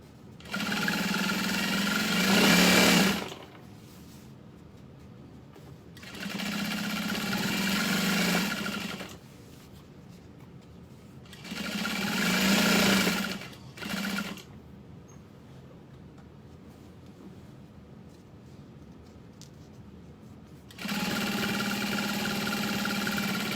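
A sewing machine runs top stitching at a long stitch length of 5 on a Freesia Foldover, with four or five bursts of steady mechanical whirring separated by quiet pauses, close and loud with no speech.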